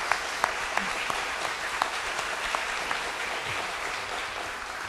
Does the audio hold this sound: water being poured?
no